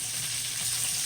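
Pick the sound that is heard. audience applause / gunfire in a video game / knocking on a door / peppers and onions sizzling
peppers and onions sizzling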